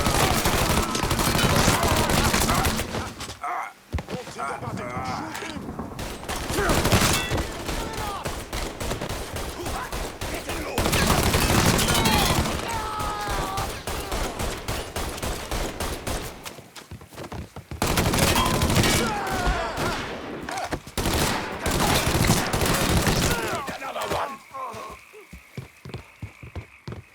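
Bursts of video game gunfire in a Mafia 3 shootout, rapid volleys of shots in several loud stretches separated by brief lulls.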